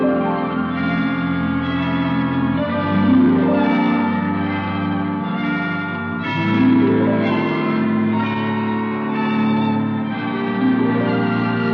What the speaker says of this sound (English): Well, 5 o'clock. I didn't know the hospital had chimes.